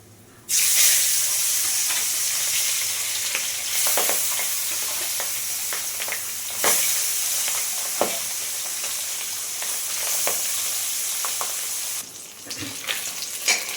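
Pabda fish frying in oil in a pan make a loud, continuous sizzle and hiss throughout, with brief stirring scrapes and no talking.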